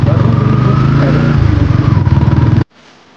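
A Yamaha MT-15 V2 motorcycle being ridden, its engine a loud, steady pulsing drone close by that cuts off abruptly near the end, leaving faint background noise.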